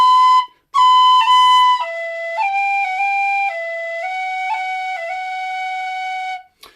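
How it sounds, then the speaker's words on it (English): Tin whistle phrase with taps played too slowly so the tapped note sounds out, a clear close melody with audible extra pitch blips at the changes, solo and unaccompanied. "if the taps aren't quick enough, you'll sound the note, so it'll sound like this"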